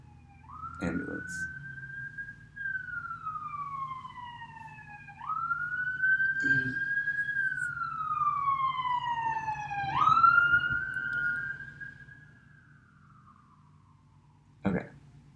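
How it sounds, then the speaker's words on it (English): An ambulance siren passes outside, wailing in long rising and falling sweeps at moderate distance, with a faint background hum and a sharp knock near the end. "Ambulance."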